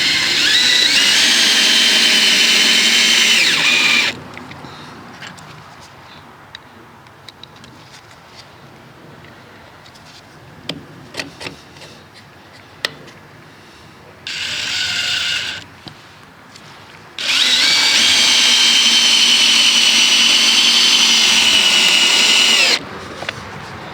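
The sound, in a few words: drill fastening breaker box clamp to wall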